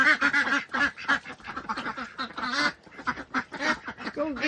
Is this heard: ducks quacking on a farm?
yes